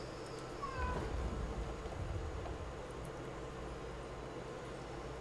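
A cat meows from somewhere below, a couple of short rising calls near the start over steady low background hum, with no talking.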